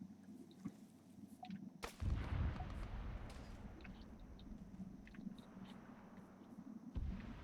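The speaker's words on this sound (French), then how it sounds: "j'ai pris une balle de snipe" A sniper round strikes the player in a first-person shooter with paradrops, arriving as one sharp loud crack with a booming tail. Continuous game ambience and gunfire carry on beneath it, with another impact near the end.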